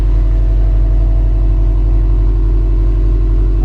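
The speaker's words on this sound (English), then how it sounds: "this thing sounds really good. I'm pretty sure it's not a stock exhaust" A 2015 Subaru STI idles with an aftermarket exhaust, a loud, close, steady low burble with an even pulsing rhythm that holds throughout.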